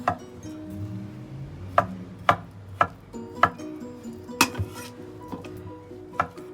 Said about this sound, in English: just cut it into manageable bite-sized pieces like that